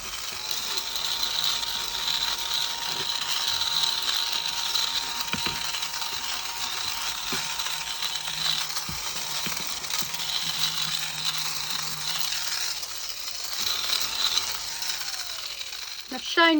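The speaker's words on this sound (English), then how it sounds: "That's the We Are Memory Keepers desk hoover." A We Are Memory Keepers desk hoover vacuums scraps off a craft desk, a steady whirring motor hum with faint rattling of debris being sucked up, running close and continuously throughout.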